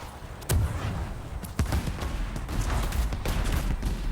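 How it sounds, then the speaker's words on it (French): Gunfire in the video game Anthem cracks out in sharp, loud bursts, with several distinct shots spaced irregularly over a rumbling background. "C'est moi qui tire."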